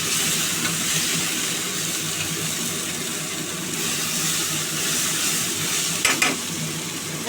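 Jackfruit and potato pieces sizzle steadily in hot oil as spices go into the pan, a loud continuous frying hiss with occasional stirring scrapes and no talking.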